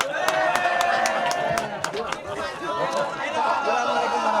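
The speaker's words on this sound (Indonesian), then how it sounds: "Saya kira tepuk tangan untuk kita semua lah." Audience applause at an Indonesian vice-presidential office event, with scattered sharp claps rising over a busy room of chatter and voices, fairly steady throughout.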